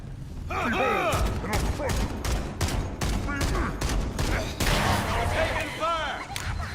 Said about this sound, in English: it shoots like a Halo 1 pistol